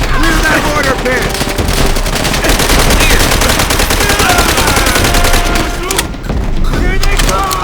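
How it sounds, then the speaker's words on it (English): A Japanese machine gun fires in World at War, rapid continuous bursts mixed with other gunfire and explosions, loud and close, with shouted voices during the battle. "Japanese MG!"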